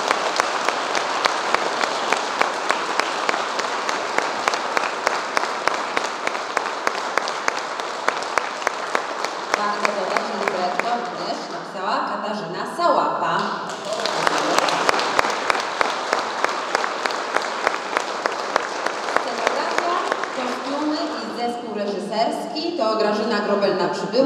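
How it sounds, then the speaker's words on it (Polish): A crowd applauds after a concert performance, sustained rhythmic clapping for over twenty seconds while a voice over a loudspeaker announces names during the ovation. "Ogromne brawa."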